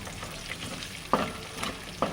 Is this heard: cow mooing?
no